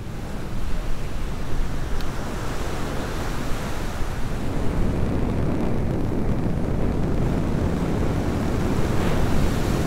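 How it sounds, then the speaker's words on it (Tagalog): Ocean waves surge and wash steadily with a rushing, windy roar, loud and continuous, no voices. "Nakita ko si Redentor na pilit sinusuong ang mga alon"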